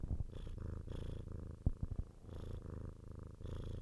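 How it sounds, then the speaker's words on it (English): A pet cat named Evie purrs loudly and close up, with a rhythmic rumbling that rises and falls with each breath, and a brief pause in the middle. "Y'all listen to my cat purr."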